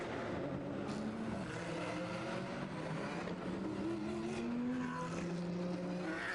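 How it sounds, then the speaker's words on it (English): Several GT3 race car engines drone and whine together at a distance at the Zolder circuit, pitches rising and falling steadily with no voices. "So the cars are rolling here at Zolder."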